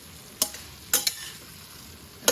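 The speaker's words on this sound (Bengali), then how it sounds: "কেমনে ভাজা ভাজা করছি" Vegetables, including radish and okra, are stir-fried in a pan: a few sharp scraping strokes of the spatula break through a faint background sizzle, close and spaced unevenly.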